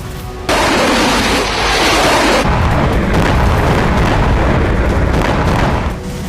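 Aerial bombing in a war zone, a sudden heavy blast that rolls into a sustained, loud roaring rumble of explosions for several seconds before easing off, with no voices.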